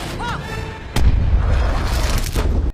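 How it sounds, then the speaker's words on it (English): Cannons fire in the animated film Kung Fu Panda 2: a sudden heavy boom lands about a second in and rolls into a long rumbling blast, with a sharp crack near the end. "it really proves how insanely powerful your cannons are"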